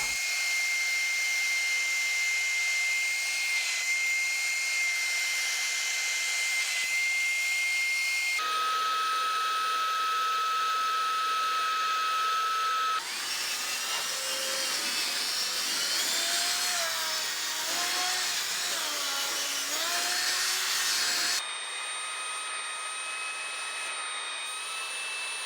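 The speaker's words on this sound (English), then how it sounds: "Let's turn the machine back on and suck the water out with a hoover attachment." A vacuum with a hoover attachment sucks water out of a car cloth seat from a Cosworth, a loud continuous whine and roar whose pitch shifts in several stages, wavering as the nozzle moves.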